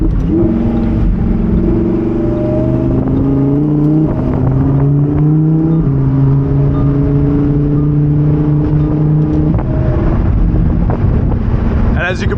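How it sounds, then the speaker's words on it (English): Lamborghini Huracan Evo Spyder with its 5.2-liter V10 in Sport mode, exhaust valves open, droning loud and close from inside the cabin, with sustained rising and falling engine tones over steady wind rush. "the car gets much louder once you drop it from Strada into Sport or Corsa and those valves open up"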